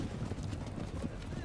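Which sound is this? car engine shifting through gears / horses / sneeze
horses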